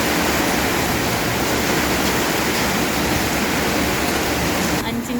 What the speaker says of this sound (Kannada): ಅಂಚಿನ ಕೆಳಗೆ ಹಿಂಗೆ ಸೋರೋದೆಲ್ಲ ಎಷ್ಟು ಚಂದ ಅಲ್ಲ.